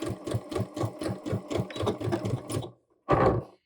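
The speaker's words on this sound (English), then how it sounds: "what I did there is I did a back stitch, like a couple stitches before the very edge of my fabric" A sewing machine stitches a pocket onto fabric for pants in rapid rhythmic bursts, pausing briefly before a short final run of stitches.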